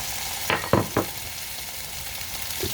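Ginger, snap peas and other vegetables go into a hot pan for vegetable lo mein, giving a few sharp bursts of sizzle and stirring scrapes close by, then a steady low fry, with no voices.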